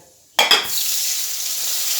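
Sudden loud sizzle as something hits hot oil, followed by steady crackling frying with a brief scrape of stirring.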